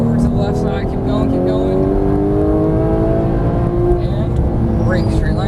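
A Porsche 991 GT3 engine pulls hard on a race track, its steady rising drone climbing slowly in pitch under full throttle, loud and close throughout, with a voice talking over it.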